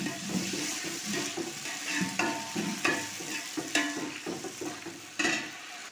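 Green chilies fry in hot oil in a pan for tomato chutney, with repeated scraping stirs and a light sizzle, each stroke clearly audible and no talk.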